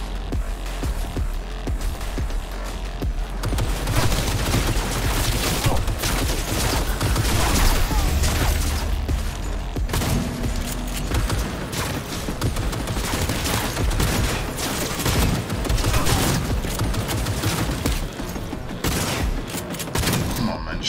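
Repeated shotgun blasts and chaotic gunfire in the video game Cyberpunk 2077, dense loud bursts nearly continuous over the whole stretch, with a voice speaking faintly beneath.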